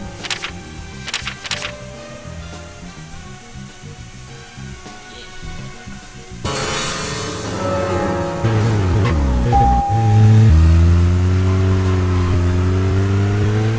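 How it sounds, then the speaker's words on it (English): A car in the Deadly Premonition video game is driven hard and drifted with the handbrake. After a quieter stretch, the engine surges into a loud, sustained revving drone that rises and falls in pitch. "Using that handbrake for mad drifting, son."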